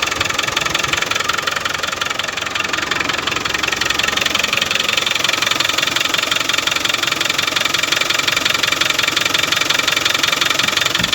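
A Land Rover Defender engine running steadily, close and loud, with a continuous knocking idle rumble and a faint whine throughout, no talk.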